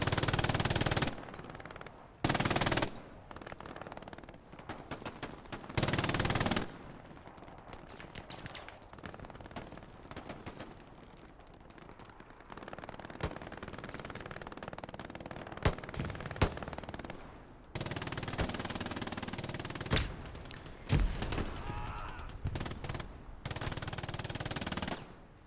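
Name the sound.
MG42 machine gun fire in video game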